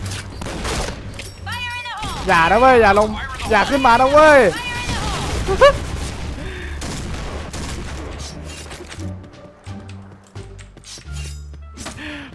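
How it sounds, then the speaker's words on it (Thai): Gunfire and booming grenade blasts in the shooter game Point Blank, with sharp bursts, shattering and clinking debris, while a player shouts excitedly over the noise. "มาดูกันสิว่า ระเบิดนี้จะสามารถใช้งานอะไรได้บ้าง"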